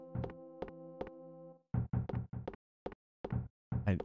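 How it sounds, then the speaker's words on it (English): Knocking at a door in the EarthBound video game: a series of sharp, distinct knocks, three spaced raps over a sustained tone, then a quicker irregular cluster of thumps, loud and close. "Someone's knocking at the door."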